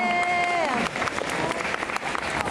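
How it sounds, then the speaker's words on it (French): Applause for a child in costume at a cosplay masquerade on stage at a fan convention, loud and spread across the hall, rising after a sustained musical tone fades, with scattered crowd noise. "On applaudit fort."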